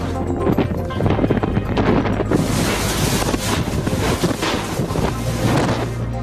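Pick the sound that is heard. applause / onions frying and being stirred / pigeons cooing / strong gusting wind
strong gusting wind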